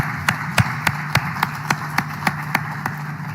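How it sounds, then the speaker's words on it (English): Audience applause at the close of a talk at an economics event, sounding as a sparse, steady run of about a dozen distinct claps rather than a dense crowd roar, fairly close and moderately loud. "Please join me in a round of applause for Chris Pissarides."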